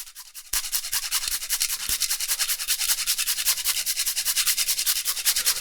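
Whole fresh nutmeg is rasped against a grater, giving a steady, close, rhythmic scraping that starts abruptly and continues without pause, with no talking.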